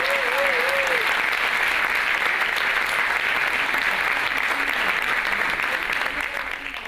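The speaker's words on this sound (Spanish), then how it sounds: "Para todos y para todas, un fuerte aplauso." Sustained audience applause fills a provincial intercultural seminar hall, dense and steady for several seconds before easing slightly at the end, with a faint tonal whistle early on.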